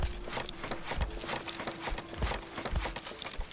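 Horse hooves clip-clop on the ground in the medieval city-building game Manor Lords. Dull, evenly spaced thuds repeat at a walking pace against a steady background bed, moderately close, with no voices.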